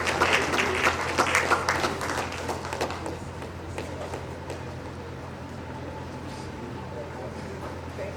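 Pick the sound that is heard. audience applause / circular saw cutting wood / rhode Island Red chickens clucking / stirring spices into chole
audience applause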